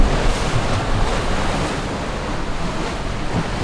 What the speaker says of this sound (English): waves are probably between 6 and 8 feet